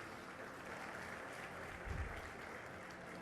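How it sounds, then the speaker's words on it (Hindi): Audience clapping at a stage event, a faint, distant, steady wash of applause with a brief low thump near the middle. "ज़ोरदार तालियां ज़रूर बजती रहनी चाहिए"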